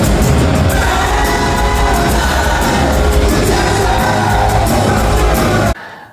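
Loud, dense roar of a concert crowd cheering and yelling at the close of a show at the O2 Academy in Glasgow, sustained and distorted, cutting off abruptly near the end.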